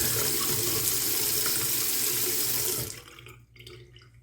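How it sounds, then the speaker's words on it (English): Water gushes steadily from a repaired Price Pfister faucet spout, a close, loud hiss for about three seconds before it is shut off and fades to quiet drips. "So let's turn the water on"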